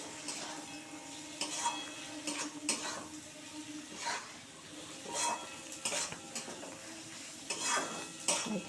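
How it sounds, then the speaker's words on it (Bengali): A spatula scrapes and stirs repeatedly in a pan as egg and long beans are stir-fried into a curry. Soft sizzling runs beneath the rhythmic metal scrapes, close and fairly quiet, with no talking. "এবার এটাকে খুব ভালো করে কষাতে হবে যেন কোনো আষ্টে গন্ধ যেন না লাগে"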